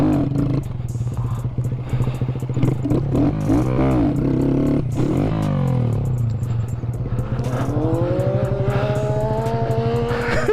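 A Honda Grom motorcycle revs hard as its rider pops wheelies, the engine note climbing and falling in loud, close, sustained surges with rising pitch sweeps and a steady rumbling drone underneath.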